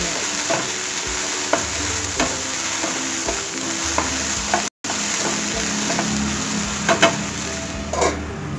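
Okra pieces fry and sizzle steadily in a hot pan while being stirred, a loud, continuous crackle broken by repeated scraping strokes of the spoon against the pan.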